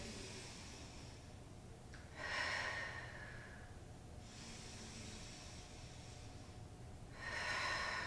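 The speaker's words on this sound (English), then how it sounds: "Take 2 big breaths here." Two deep, audible breaths during a core yoga session, each a soft hissing exhale spaced several seconds apart, faint and close, with quiet room tone between them.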